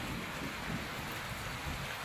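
Steady rain falls outside a goat shelter, a dense, even hiss of drops drumming on surfaces close by with no pauses, heard alone without voices.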